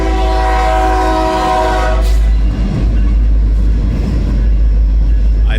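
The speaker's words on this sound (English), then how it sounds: "I just heard the train whistle blow." A train horn blows with steady sustained tones for about two seconds, then fades into the rumble of a passing train and low traffic noise.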